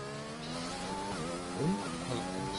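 Formula 1 race car engines from the game F1 2020 drone steadily with shifting, rising and falling harmonic whines, a continuous near roar with a brief louder swell midway.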